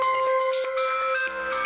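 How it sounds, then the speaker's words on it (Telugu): A phone rings with an incoming call, a steady electronic ringtone melody with short repeating tones, loud and close, with no voices over it. "వాసంతి ఫోన్ చేస్తుందేమిటి?"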